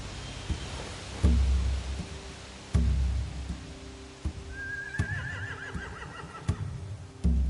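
A horse in Telltale's The Walking Dead video game whinnies once in a rising, wavering call amid scattered hoof clops and thuds, fairly faint with a quiet background.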